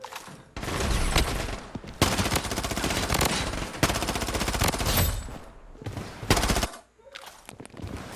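Bursts of automatic gunfire in the video game Blood Strike, loud rapid fusillades in several long runs broken by short pauses, with a brief drop near the end.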